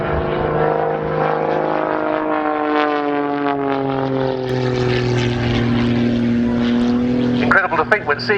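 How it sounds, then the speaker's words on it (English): A heavily modified Pitts Special aerobatic propeller plane with an 8.5 litre six-cylinder engine flies past loudly, its buzzing drone sliding down in pitch, while someone talks over it. "Incredible to think when seeing this aircraft, one that puts on one of the most stunning aerobatic displays you'll see anywhere"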